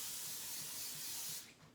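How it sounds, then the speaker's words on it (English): Cooking spray hisses from an aerosol can onto a cake pan held over a kitchen sink, one steady close burst lasting over a second before cutting off. "So I'm just going to lean over here and spray"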